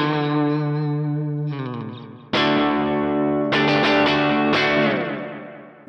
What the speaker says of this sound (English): I'm playing this Lonester 1/4 profile with a telly.